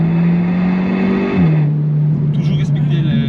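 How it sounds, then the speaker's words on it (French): Inside an Audi S3 8V with a DSG gearbox and Stage 1 tune, the engine drones loudly under acceleration, dropping pitch with a quick gear shift partway through while a driver talks over it. "Là on peut faire un jeune dépassement dynamique."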